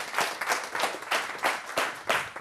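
Small studio audience applauding for a singer, a few distinct bursts of rhythmic clapping close by, with no voices over it.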